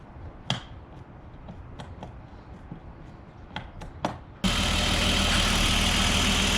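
A BMW Z3 with a 2.8L M50 engine idles after an intake manifold upgrade. Faint ticks and clicks come first, then a close, loud, steady idle drone starts abruptly and holds to the end.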